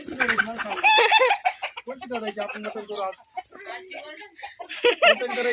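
Several chickens cluck and squawk close by in busy, overlapping bursts, with people talking among them.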